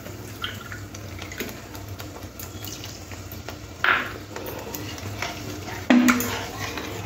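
Water poured into cooking masala for an eggplant curry and stirred in a pot: soft liquid sloshing and scraping, with two sharper clinks of a utensil against the pan.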